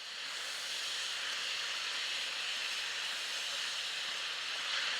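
Ground beef browning in a skillet for a beef and cabbage one-pan meal gives a steady, dense sizzle that holds evenly throughout, close and alone without talk.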